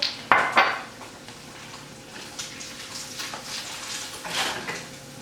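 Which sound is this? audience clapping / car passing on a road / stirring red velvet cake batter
stirring red velvet cake batter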